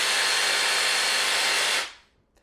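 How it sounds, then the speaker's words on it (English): A Makita DJV184Z cordless jigsaw runs at its lowest speed setting 1, giving a steady, close, fairly loud broadband whir for nearly two seconds before cutting off abruptly and winding down into silence. "So we're gonna drop the jigsaw down into a 1 speed"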